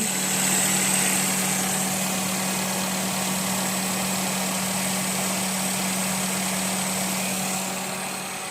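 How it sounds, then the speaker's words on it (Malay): A car engine idles with its air-con compressor switched on though the system holds no refrigerant gas, giving a steady close hum with a constant low drone and faint high whine, unchanging throughout. "Kita start engine. Kita on switch compressor. Jadi sekarang compressor dalam keadaan running."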